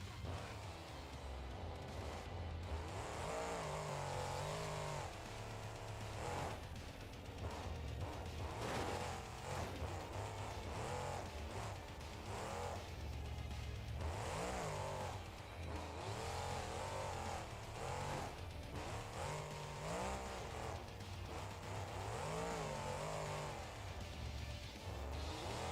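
A monster truck engine in BeamNG Drive drones and revs continuously with rising and falling pitch as it drives, a fairly steady loud motor sound with faint tire noise and occasional quiet talk.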